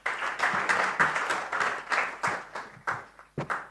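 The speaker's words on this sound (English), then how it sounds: "Can we give Daniel a round of applause?" Conference audience applause at a national cyber security event, thinning into scattered, distinct hand claps that come in uneven bursts and fade toward the end.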